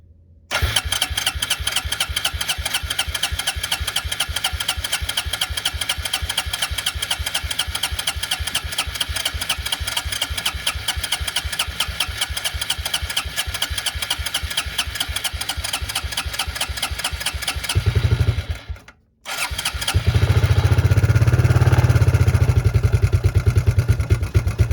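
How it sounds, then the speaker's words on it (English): A cheap, barely functional four-wheeler ATV engine fires up and settles into a steady, loud, rapid idle, then cuts out for a moment before roaring back louder; there is no talking. "Engine on."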